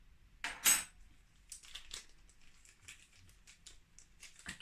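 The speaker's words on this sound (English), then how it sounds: "I'm going to mix with a fork." Fork clinking and scraping against a container while mixing homemade bubble solution with a half teaspoon of powder, a bright clatter early then lighter taps and stirring scrapes, fairly faint and close.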